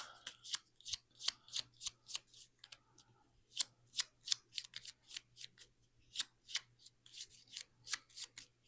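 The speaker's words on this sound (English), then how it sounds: "To shuffle these cards." A deck of playing cards is shuffled again and again during a solo tabletop game, making crisp riffling bursts in a steady rhythm, close and fairly quiet, with no one talking.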